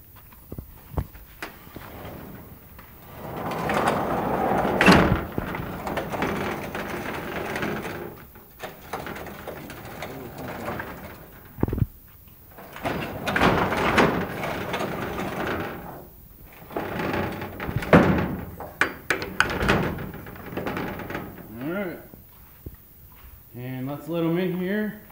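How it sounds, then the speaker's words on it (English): Wooden barn doors in a goat barn are pulled and banged shut, with repeated scraping, rattling and thumps spread over about twenty-five seconds, and a short animal call near the end. "Alright, let's get these barn doors shut."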